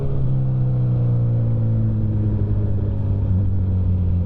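A motorcycle runs on a cold 45-degree morning, its engine giving a steady, close, low droning rumble with a constant pitch and no pauses.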